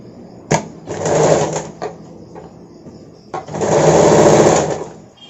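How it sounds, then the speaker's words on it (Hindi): A sewing machine stitches a katori cut blouse in two bursts of rapid whirring stitching, each lasting about a second. A sharp click and a quiet pause come between them, and the sound is close and fairly loud. "सीधा साइड की तरफ से सिलाई करूंगे।"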